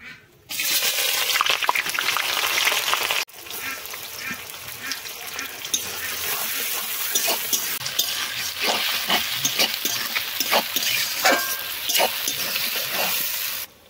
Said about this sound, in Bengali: দিয়ে দেবো পেঁয়াজ কুচানো